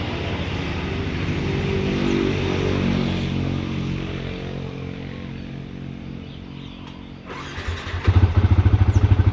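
A 2015 Yamaha Vixion motorcycle sits near a steady background rumble, then its engine fires up and settles into a close, loud idle with a rapid, even thumping beat.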